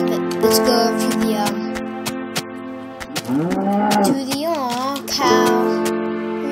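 A cow in the Minecraft video game lets out several drawn-out, wavering moos among sharp game clicks, loud and close, with players' voices talking around them.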